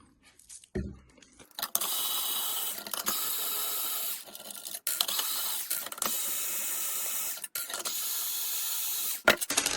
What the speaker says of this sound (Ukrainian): Далі є 4 винтові з'єднання, які потрібно теж відкручувати.